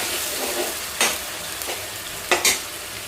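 Masala paste for a chandua fish curry fries in a pan with a continuous sizzle, while several sharp scrapes and stirs of a spoon rise above it.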